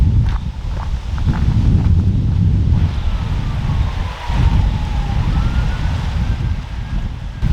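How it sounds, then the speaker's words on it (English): Distant ambulance and fire engine sirens carry across a lake, a faint wailing tone rising and falling far off beneath wind and nearby footsteps on a trail. "you can still hear ambulances and fire engines and stuff"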